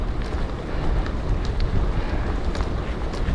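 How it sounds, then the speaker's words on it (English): Wind blasting a cyclist on a single-speed fixie ride: heavy, constant roaring buffets over the microphone, loud and close, with no break. "Oh, God, it's hard work against the wind."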